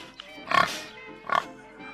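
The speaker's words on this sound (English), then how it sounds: "Why is the screeching pig so loud?" A pig screech used as a sound clip, heard as two loud, harsh squealing bursts about a second apart, close and with no talk over it.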